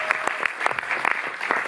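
Brief applause from a cinema audience at a Paris film screening introduction, a scatter of separate claps with a light crowd bed, fairly close and moderately loud, with no talk over it.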